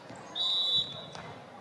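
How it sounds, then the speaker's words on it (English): A referee's whistle sounds during a girls' high school basketball game, one sharp shrill blast about half a second long, clear above the murmur of the gym crowd. "And a whistle under the bucket"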